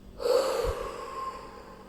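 Someone breathes out sharply during a standing stretch in a primary-school maths lesson: one short, breathy exhale near the start that trails off into quiet room tone, with no talking.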